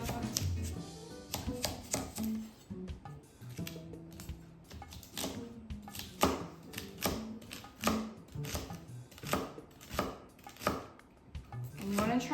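A knife thinly slices celery on a chopping board, a quick series of crisp, close cutting thuds in an uneven rhythm, with occasional quiet talking.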